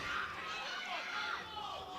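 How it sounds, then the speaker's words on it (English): A crowd at a European classic powerlifting championship roars for an Irish lifter, a dense, excited wash of cheering and shouting that holds steady for a couple of seconds, fairly distant. "that kind of roar of the crowd just brings a smile to my face"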